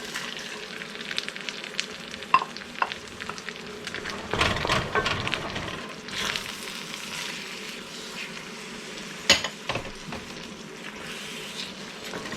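Eggs go into a venison blood sausage mixture cooking in a pan, giving a steady soft sizzle with occasional louder crackles and stirring scrapes, moderately close and without talk.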